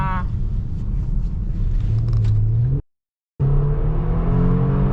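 A 2022 Kia Stinger GT engine drones and rises in pitch as it revs, cuts out briefly, then revs up again with a deep exhaust rumble.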